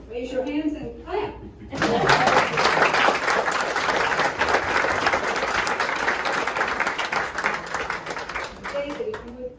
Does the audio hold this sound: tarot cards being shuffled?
no